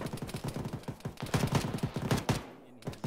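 Rapid, repeated bursts of gunfire in an Arma military game, a dense fusillade of evenly spaced shots that stops briefly before a final shot, heard at moderate distance.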